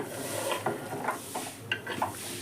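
Beans being tipped into a pan and stirred for a Telugu-style beans fry, with scraping spoon strokes and light clinks over a steady low sizzle, close up and without talk.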